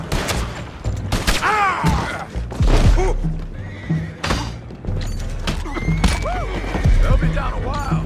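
Several horses whinny and neigh in a busy scene from the video game Red Dead Redemption 2, with hoofbeats, thuds and scattered gunfire around them.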